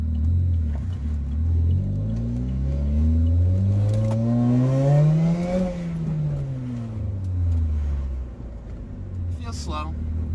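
A Saturn car with a bad-sounding clutch and transmission, its engine revving up and back down in one loud rising-then-falling sweep, heard close from inside with a person talking over it.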